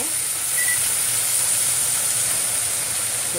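Sliced onions sauté in a pan for a vegetarian biryani, giving a steady, close, continuous hiss and sizzle that holds evenly throughout with no talk.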